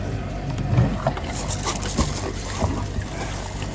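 A pump motor drones while sucking liquid out of a septic tank, with gurgling, sloshing surges and a few thumps; a voice speaks faintly underneath.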